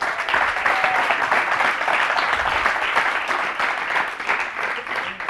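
Sustained audience applause and ovation at a school awards ceremony honoring a representative of the Nativité school, with dense, steady clapping throughout and no gaps.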